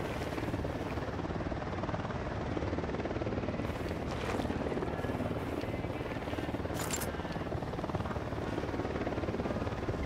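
A helicopter in the Ghost Recon Wildlands video game drones with a steady, loud rotor chop that holds throughout, with a few sharp bursts of gunfire or impacts cutting through.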